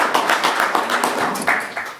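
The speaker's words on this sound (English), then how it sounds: "let's give them a big round of applause" Audience at a city council retreat breakfast applauding, a dense patter of many hands clapping at close range, steady throughout with a slight swell near the end.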